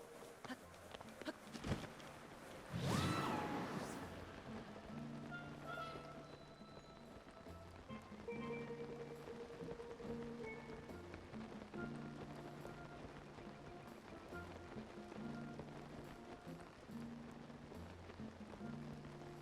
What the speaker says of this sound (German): Es regnet wieder mal